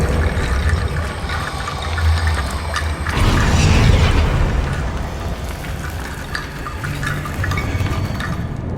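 A Confringo fire spell cast in Hogwarts Legacy, a rushing whooshing blast that swells around the middle and fades, over steady low ambient rumble and no talking.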